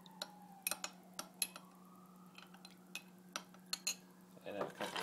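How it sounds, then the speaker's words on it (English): A spoon stirs an Old Fashioned cocktail in a glass, giving quiet, irregular metallic clinks and taps against a steady low hum, with a louder rattle near the end. "Stir again."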